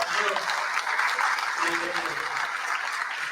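A crowd applauds with steady, dense clapping throughout, loud and continuous, with a few voices calling out beneath it.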